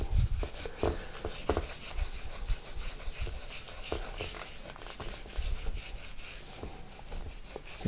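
A hand rubs grout into a mosaic over the covered tesserae, giving a steady run of close, gritty rasping strokes at a moderate level with no talking.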